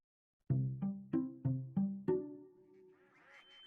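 A duck quacking in a series of six rapid, loud, nasal quacks, followed by a fainter trailing tone.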